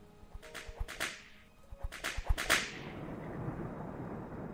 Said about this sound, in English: A thundering sound like a whip's crack.